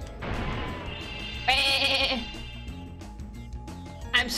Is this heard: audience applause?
no